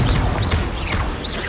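A Confringo blasting spell goes off in Hogwarts Legacy, a loud rushing blast with swooping whooshes that keeps roaring steadily for a second and a half.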